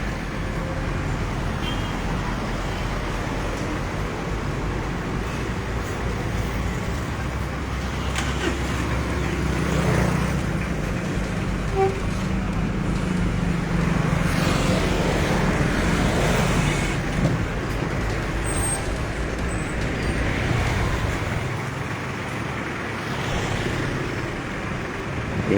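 Traffic jam of trucks and buses, including regional AKDP buses, queuing for diesel at 7 Ulu in Palembang: continuous mid-distance engine rumble and roadway noise with idling and creeping vehicles and occasional faint horn-like tones.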